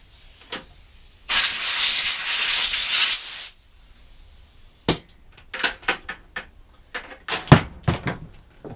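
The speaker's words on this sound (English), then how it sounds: "I want some quick little blow off with air." Compressed air gives a two-second hiss blowing dirt off a mower carburetor on the bench, followed by scattered knocks and clicks of handling parts.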